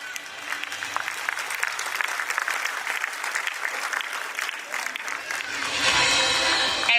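Audience applause at a school annual day celebration at Basil School in Baroda, a dense, steady clapping from a large crowd that swells louder toward the end, with no talk over it.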